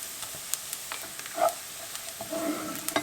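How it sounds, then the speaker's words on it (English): Tomato paste sizzles in a pan with caramelized onion and garlic, a soft steady frying hiss broken by a few close spoon scrapes and stirs, with no voices. "I have nice caramelized onion and garlic. Going to add my tomato paste"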